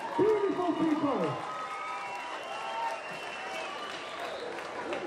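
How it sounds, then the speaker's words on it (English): An audience at the 2022 Twizza Super Schools Series national finals claps and cheers, a loose crowd roar with voices and shouts near the start, then settling into steady applause that carries on with raised voices over it. "Give yourself a round of applause, you beautiful people."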